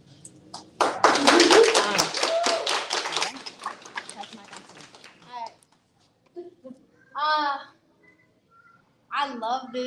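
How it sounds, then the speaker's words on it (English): An audience claps at a gathering about an ethnic studies bill, a dense burst of applause lasting a few seconds and fading out, followed by scattered voices and talk. "Do you guys notice every time we clapped, it'd be like, Woo!"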